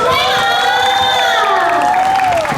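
A loud crowd at a Thai concert event cheers and screams continuously for a four-member girl group, high-pitched shouts sustained throughout with clapping mixed in.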